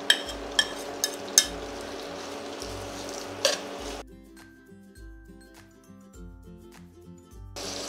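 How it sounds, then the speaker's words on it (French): Diced bacon sizzles loudly in a pan with occasional stirring clicks for about four seconds, then gives way to a much quieter background. "Je vais faire revenir mon bacon"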